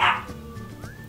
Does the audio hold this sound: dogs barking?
yes